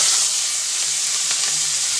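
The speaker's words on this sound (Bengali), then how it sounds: "চিংড়ি মাছটি একটু ভাজে নিব" Prawns fry in hot oil in a wok, making a steady, loud hiss and sizzle that runs unbroken and close by, with no voices.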